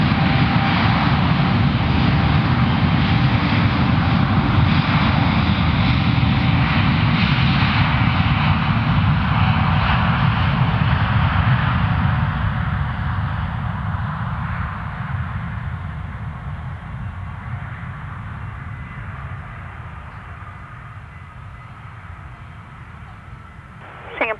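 Aircraft on runway 03 at Perth Airport, a loud, steady jet engine roar that stays strong, then slowly fades into the distance as the plane moves away, with no talk.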